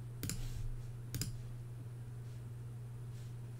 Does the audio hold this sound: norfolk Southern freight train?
no